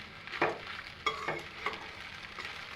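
Puffed rice stirred in a pan, several distinct rustling, scraping strokes at an uneven rhythm over a faint background, close and fairly quiet.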